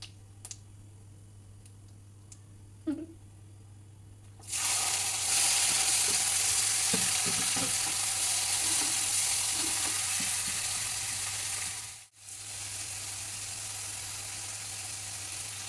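Cumin seeds hit hot cooking oil with a sudden loud, steady sizzle that follows a few quiet clicks and runs on for about ten seconds, dipping briefly near the end.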